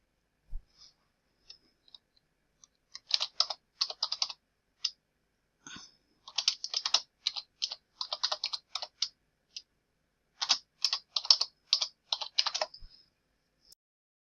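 Computer keyboard typing in quick clustered bursts of crisp key clicks separated by short pauses, close and clear in an otherwise quiet room.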